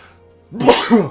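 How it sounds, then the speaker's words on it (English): One loud, close sneeze-like burst with a short catch of breath, followed by a second voiced puff. "I think I'm done sneezing now."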